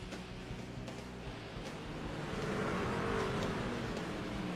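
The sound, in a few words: race trucks driving behind the pace car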